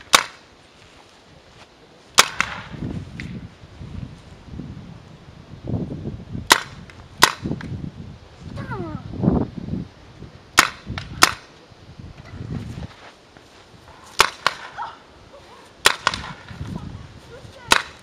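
Paintball markers fire at an outdoor field, sharp isolated pops spaced irregularly across the clip, some close and loud, with faint voices talking between shots.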